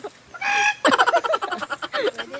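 A rooster crows loud and close, a long strained call followed by a broken, rising and falling run of harsh crowing notes, heard alone without talk.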